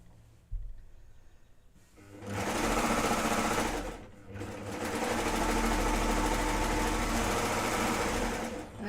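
A domestic sewing machine sews arm pieces onto a garment in two long, steady high-speed runs separated by a brief pause. The whirring motor is close and loud, with a quiet lead-in before it starts.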